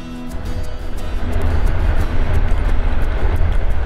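Passenger train on a rail line crossing three countries, heard from inside the dining car as a loud, continuous low rumble and rattle that grows slightly stronger, with faint clicks above it.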